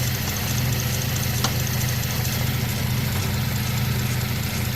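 The engine of a Holden Commodore car runs at a steady idle, a constant low hum with an even rhythmic pulse, heard close up with no voices.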